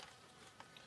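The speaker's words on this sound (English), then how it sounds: "And bees." Bees buzz faintly around trail-mix snacks of dried apples and pistachios outdoors, a soft, continuous drone with slight swells as they move close.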